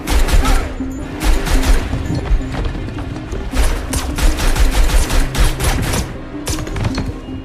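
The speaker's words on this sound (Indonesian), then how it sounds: "Mendengar suara tembakan, John berdiri dan mengambil senjatanya." Rapid bursts of gunfire crackle in a dense, continuous volley with heavy booming thuds underneath, loud and close, no voices.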